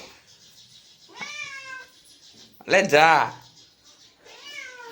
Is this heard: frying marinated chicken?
no